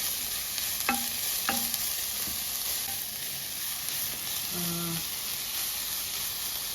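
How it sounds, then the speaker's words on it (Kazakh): Carrots and onions sizzle steadily in a frying pan with a little oil, a soft continuous frying hiss broken by a few light clinks of a utensil. "Сәбізіміз бен пиязымызды қуырып алдық."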